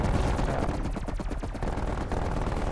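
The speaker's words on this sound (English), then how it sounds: "The turrets are gonna shoot on their own." Automatic turrets fire on their own in Call of Duty Cold War Zombies, a dense, loud stream of rapid gunshots rattling continuously without pause, with no talking over it.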